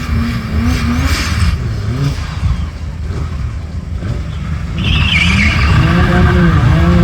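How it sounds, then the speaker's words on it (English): BMW E30 race car spins its tires to warm them at a race event, with a loud, steady engine roar and a high tire screech that grows louder partway through. "the E30 warming up his tires"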